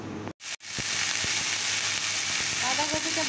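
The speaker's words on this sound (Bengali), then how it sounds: "তো চলো এবার বাঁধাকপিটা বসিয়ে দেই।" Chopped cabbage hits a hot pan after a brief silence and bursts into a loud, continuous sizzle, with occasional soft clicks of stirring in a home kitchen.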